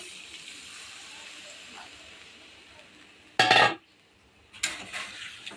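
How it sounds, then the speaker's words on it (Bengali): Water poured into a hot pan of fried, cooked-down spices with cauliflower and potato for a fish curry gives a sudden loud hissing sizzle. A second, softer burst of sizzling follows about a second later over low kitchen background. "মশলা কষানো হয়ে গেছে, জলটা দিয়ে দিচ্ছি।"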